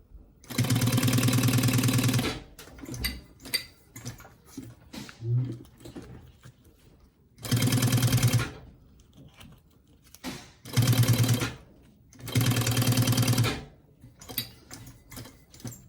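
Electric sewing machine stitching fabric for a handmade planner, four loud, close bursts of rapid whirring needle motion with short rustling, handling pauses between them.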